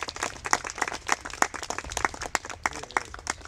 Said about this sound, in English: put your hands together and give a round of applause for Bill Ward